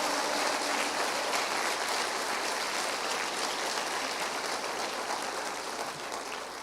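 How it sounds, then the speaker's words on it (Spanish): A church congregation applauds during a sermon, a steady broadband wash of clapping that holds loud and even throughout, easing off slightly near the end. "¿No le puedes dar un aplauso al Señor por eso?"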